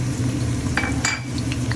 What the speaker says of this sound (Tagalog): Gisa natin. And then, sibuyas.